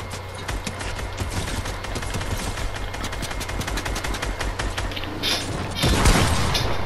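Rapid bursts of gunfire in the video game Fortnite crackle in quick succession, loud and dense, with a heavier boom toward the end; no speech.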